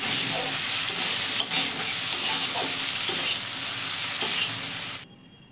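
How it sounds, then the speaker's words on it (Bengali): Shrimp frying in a wok, a loud, continuous close sizzle with stirring scrapes that cuts off abruptly near the end. "চিংড়ি মাছগুলো প্রায় ভাজা হয়ে গেছে আমার।"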